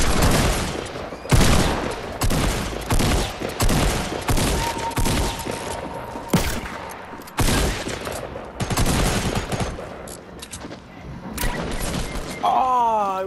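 Fortnite shotgun fire cracks out in a rapid series of loud, sharp blasts, some clustered close together, amid game crashes and thuds, with gaps between volleys and a brief electronic warble near the end.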